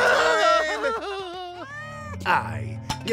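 A cartoon cat lets out drawn-out, wavering meows and yowls, loud and close, with a short voice exclamation partway through.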